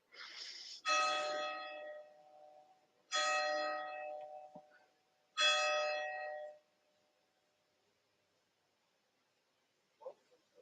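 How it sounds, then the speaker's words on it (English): Three long harmonic church bell strikes ring out a couple of seconds apart, each swelling and fading, followed by quiet and a faint knock near the end. "We can hear the bells now."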